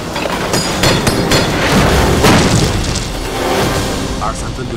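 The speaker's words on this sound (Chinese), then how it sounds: "把炮弹都给老子轰上去！" Artillery shells fired and exploding during a battle, heavy rumbling booms and thuds rolling continuously over several seconds, loud and close, with shouting voices mixed in.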